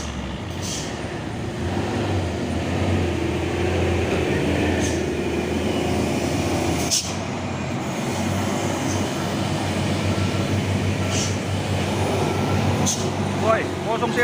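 Heavy trucks carrying palm oil fruit roll past in a downpour at Bukit Kodok on the Trans-Sumatra road, a steady rumble of engines and rain heard from inside an ALS bus cabin, with occasional louder passes and a voice at times.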